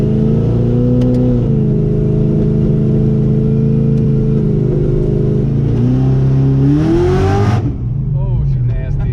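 Rear-wheel-drive car making about 1000 horsepower accelerating hard, heard from inside during a ride-along: a loud, steady engine roar climbing in pitch, then easing off near the end.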